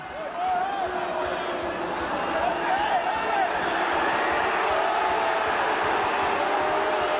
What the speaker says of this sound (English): Crowd voicing their displeasure.